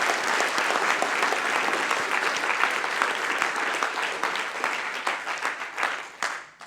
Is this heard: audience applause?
yes